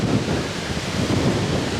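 Steady wind buffeting the microphone around a cow shed, a continuous low rumbling roar without pauses, loud and close, no voices.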